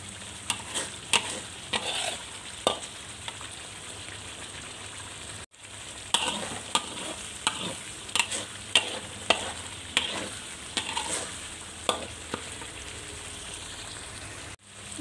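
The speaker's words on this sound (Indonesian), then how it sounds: "Masak sehingga kering ya, sehingga keluar minyak." Sambal udang bersantan cooking down until dry and the oil separates, a steady close sizzle punctuated by repeated sharp clicks and scrapes of a spatula stirring against the pan, with a brief pause partway through.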